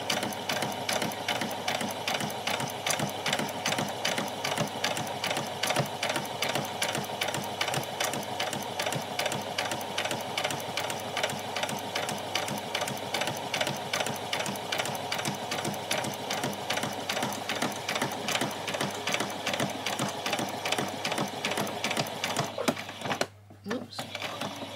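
A domestic sewing machine stitching fabric for a doll's dress whirs steadily and rapidly, running almost without pause, then stops abruptly near the end.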